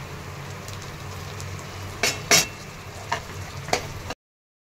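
Onion sautéing in a pan with garlic, ginger and tomato for tomato moong dal, a soft steady sizzle with a few sharp scraping stirs and clinks near the end before it cuts off.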